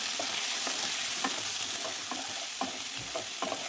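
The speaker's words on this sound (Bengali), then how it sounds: "দিলাম লবণ হলুদ জিরে গুঁড়ো লঙ্কা গুঁড়ো দিয়ে এটাকে মশলাটাকে কষাবো" Spice paste of ground ginger, garlic and onion with salt, turmeric, cumin and chilli powder frying in a pan, loud continuous sizzle broken by repeated scraping stirs of a spoon.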